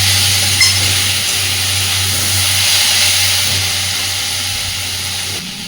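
Potatoes and onions fry over a medium gas flame, a steady close hiss of oil in the pan with a low hum running underneath.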